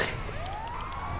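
A siren from an ambulance in the video game GTA V sweeps upward in a rising wail, loud and close over engine rumble, heard only briefly.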